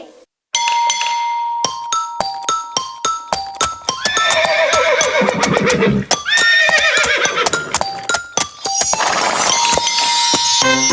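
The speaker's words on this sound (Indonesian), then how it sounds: "Naik kendaraan yang ditarik oleh seekor kuda." Rhythmic clip-clopping hooves of a horse pulling a cart sound alongside jingling bells, followed by a loud, drawn-out horse whinny, with more clopping and chiming after.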